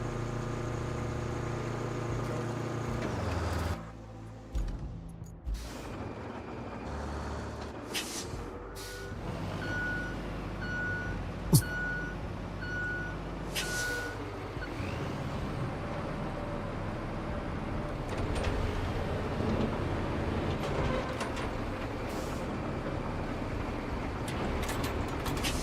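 Heavy truck or bulldozer engine in RoadCraft, a steady low rumble with reversing beeps and a hiss of air brakes, continuous and close throughout.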